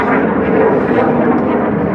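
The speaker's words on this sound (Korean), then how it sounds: "비행기 소리 너무 커요." A loud, steady airplane engine drone with a broad roaring hum, continuous for the whole stretch.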